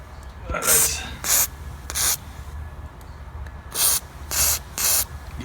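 WD-40 sprayed onto rusted exhaust manifold bolts on an LS1-swapped Nissan 240SX S14, six short close hissing bursts in two groups of three, separated by quieter pauses.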